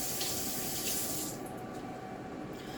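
Tap water runs steadily into a sink as a carrot is rinsed underneath, a continuous close hiss and splash that softens slightly partway through, with no voices.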